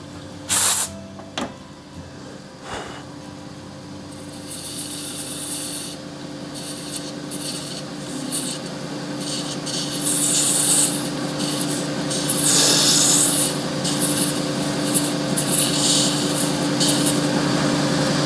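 Sandpaper held against a spinning resin shave brush handle on a lathe, giving a continuous close rubbing hiss over a steady motor hum, growing louder and brighter in the second half, after a few sharp knocks at the start.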